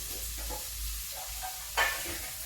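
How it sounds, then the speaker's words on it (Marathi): Onion roasts in a pan while stuffed brinjal is being made the traditional way, giving a steady, quiet frying sizzle with a brief stirring scrape near the end and no talk. "कांदा इकडे आपला भाजत आहे"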